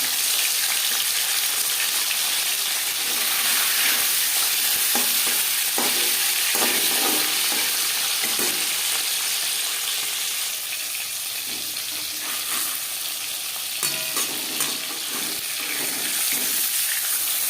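Steady, loud crackling sizzle of marinated bata fish frying in hot refined oil, continuous throughout with occasional sharper pops and spatters.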